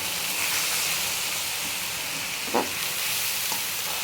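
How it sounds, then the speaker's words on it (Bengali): Soaked, drained basmati rice being gently sautéed in hot oil for white pulao, giving a steady close sizzle and hiss with a light stirring scrape near the middle. "চালটাকে তেলের সাথে একটু কষিয়ে নিচ্ছি।"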